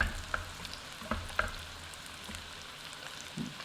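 Keto salmon patties fry in a skillet, a soft close sizzle with a few sharp pops and crackles early on, then a quieter steady fizz.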